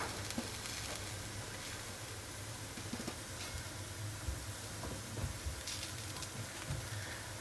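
A Sindhi koki flatbread cookie frying on a high flame gives off a steady, soft sizzle with faint crackles. The sound is close and continuous, with no talking.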